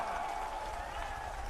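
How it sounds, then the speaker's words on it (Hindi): Crowd applause at a political rally in Mau, a dense and steady wash of clapping with no breaks, heard from within the audience. "जोरदार ताली बजा के स्वागत करा"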